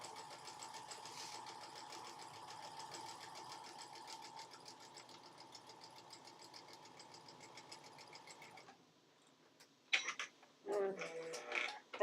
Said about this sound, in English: that's just a bunch of matching up pieces and sewing them up together